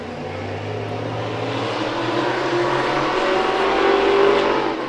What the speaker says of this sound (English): There goes the green flag. We are racing with the Thunderous Modifieds.